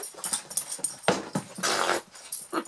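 A pet puppy whines, yips and growls in quick bursts close by, with short breaks between the sounds.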